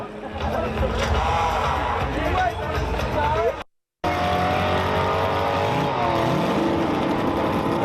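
A Belgian-driven race car roars away from the start line at a racing event, loud engine revving with tire noise, while an announcer talks over it; a second car, a 1967 Camaro, follows after a brief gap.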